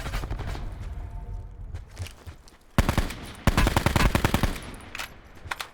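Automatic gunfire in a Call of Duty Black Ops 4 Blackout solos match: bursts of shots run through the clip, with loud rapid volleys near the end and no talking.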